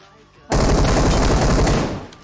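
Loud, sustained burst of Uzi fire in PUBG Mobile, a continuous rapid automatic stream starting after a quiet half-second and tapering off near the end.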